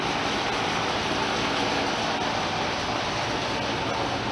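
Steady broadband whooshing hum of an air conditioner fills a hot workshop, constant and fairly loud with no other sounds.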